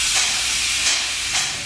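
Steam locomotive Lok 2 "Nürnberg" of a museum railway in Ebermannstadt hisses steadily and loudly up close, with three soft surges in the continuous steam release.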